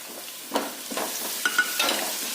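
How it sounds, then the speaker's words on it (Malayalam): Onion sautés in a pan with crushed ginger, green chilies and garlic while it is cooked for a crab fry, giving a quiet steady sizzle with a few soft scraping stirs. "ഒന്ന് നല്ലോണം നമുക്ക് വഴറ്റി കൊടുക്കാം"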